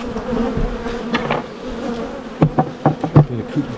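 Honey bees from a freshly split hive during an artificial swarm, buzzing densely and close throughout, with several sharp knocks and clicks from hive handling toward the end.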